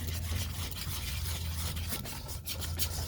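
Spoon or spatula scraping the sides of a bowl while mixing pancake batter, soft repeated rubbing and scraping strokes, quiet and close with no talk.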